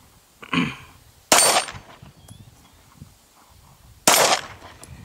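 Three sharp Glock pistol gunshots crack out at an outdoor range, loud and close, spaced irregularly with a long pause before the last, each followed by a short ringing decay.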